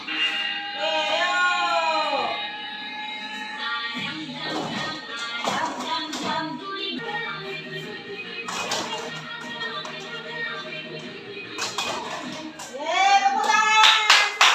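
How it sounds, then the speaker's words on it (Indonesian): A standing group claps together during a classroom ice-breaking activity, with bursts of hand claps at intervals under chanted, sing-song voices that continue between the claps. "Tepuk tangan"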